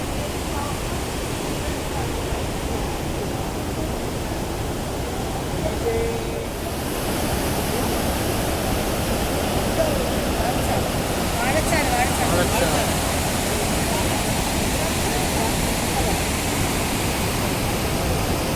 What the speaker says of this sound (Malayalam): ചാലക്കുടി പുഴയുടെ ഭാഗമാണ് ഈ വെള്ളച്ചാട്ടം